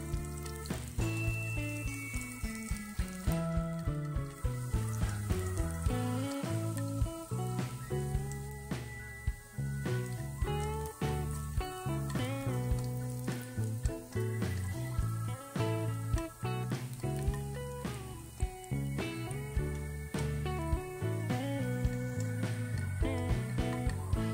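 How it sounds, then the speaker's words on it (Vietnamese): Garlic sizzles and crackles in a hot pan under steady, rhythmic background music that plays throughout. "Mình sẽ phi cho tỏi thật là vàng thơm."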